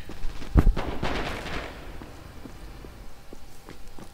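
Distant gunfire in a competitive shooter video game, a sharp close shot followed by a cluster of rattling reports and then scattered faint pops fading into the background.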